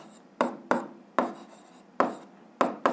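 Physics equations being written by hand, heard as several sharp separated strokes, each a brisk scratch that fades quickly, close to the microphone with no talk over them.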